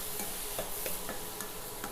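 A spoon stirs rava laddu mixture moistened with a little milk in a pan, producing a steady rustling hiss broken by regular soft scraping strokes about every half second.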